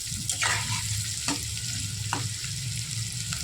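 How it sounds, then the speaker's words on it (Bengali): Two medium onions, finely chopped, fry in a pan for a prawn malai curry, giving a quiet steady sizzle broken by a few scraping strokes of a spoon stirring them, with no speech. "দুটো মিডিয়াম সাইজের পেঁয়াজ কুচি করে পেঁয়াজের কালারটা যতক্ষণ না চেঞ্জ হচ্ছে বন্ধুরা এইভাবে আমি নাড়াচাড়া করতে থাকবো"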